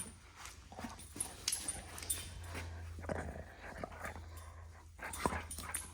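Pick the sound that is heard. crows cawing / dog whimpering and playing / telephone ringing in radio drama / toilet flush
dog whimpering and playing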